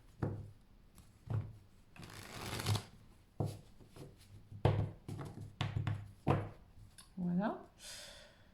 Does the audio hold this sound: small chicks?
no